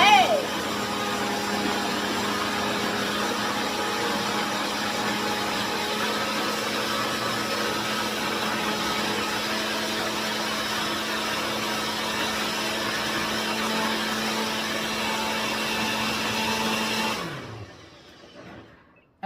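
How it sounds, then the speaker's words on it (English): A blender runs on high, pureeing cooked sweet potato with a steady, loud whir that holds for about seventeen seconds, then winds down and cuts off. "press power, and then I turn it on high. And blend away."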